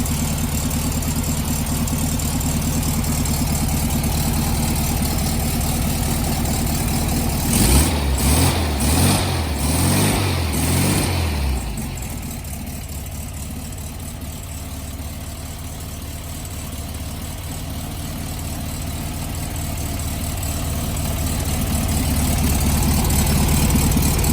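An air-cooled engine for a 1964 VW Beetle, apparently 40 horsepower, runs on an electric starter setup with a steady, even idle, briefly rising into a louder, rougher burst before settling back to a smooth continuous hum.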